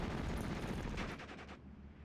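An MG34 machine gun in the WWII strategy game Steel Division fires a dense, loud burst that rattles on continuously, then cuts off and fades.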